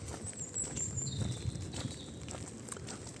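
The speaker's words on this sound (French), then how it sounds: "Après c'est pas de la grosse pluie non plus" Light rain falling outdoors during a walk around town, a soft continuous patter of drops close by with faint scattered taps and no speech.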